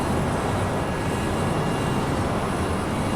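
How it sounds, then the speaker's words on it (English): A jet engine roars on takeoff in a flight simulator game. The thrust is a loud, steady, unbroken rumble and whine throughout, with no speech. "It is a jet engine."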